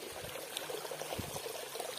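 Water pours and trickles steadily past a goddess temple, a continuous soft running-water wash with faint low gurgles, fairly quiet and with no voices.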